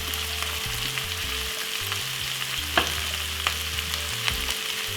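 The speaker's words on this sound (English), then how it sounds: "Give it a lovely stir." Bully beef with cabbage and coarse pepper frying in a pot, a loud continuous sizzle with a few stirring knocks, close and without voices.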